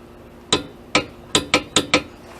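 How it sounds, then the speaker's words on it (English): A torque wrench tightens a rear brake caliper bolt on a VW Alltrack, giving six sharp metallic clicks in quick succession, the last four bunched close together, loud and near with no talk. "Alright, torque wrench is set to 66."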